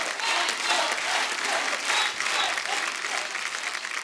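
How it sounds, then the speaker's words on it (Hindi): Studio audience applause on a Hindi music talk show, steady dense clapping sustained throughout at a loud, even level, with no talk over it. "जोरदार तालियां"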